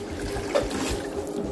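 Aquarium gravel siphon drawing water up from tank stones, a steady close trickling and gurgling flow with a brief slurp partway through.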